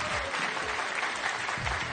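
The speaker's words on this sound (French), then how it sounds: "on va vous applaudir encore" A French television game show audience claps for a winning contestant, a short burst of dense, steady applause that stays fairly quiet in the studio.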